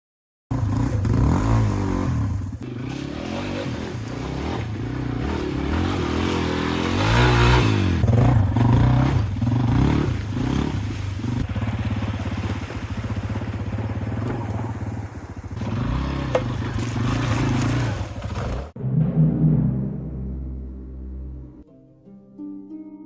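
A Yamaha XT250 dual-sport motorcycle ridden off-road over rocks, dirt and through a deep puddle, its engine revving loudly and continuously with clattering and scraping, then cutting off abruptly near the end leaving quieter sounds.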